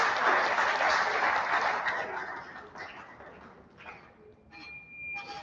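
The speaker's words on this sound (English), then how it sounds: "Please, a round of applause to INEC" Audience applause at a voter-education event, dense clapping loudest at first, then thinning out and fading, with a few scattered claps and clanks as it dies away.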